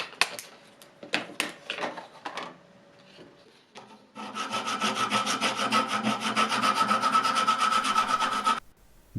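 A few sharp knocks and scrapes, then a hand saw cuts a wooden knife handle in steady, rapid back-and-forth strokes, loud and close, stopping abruptly.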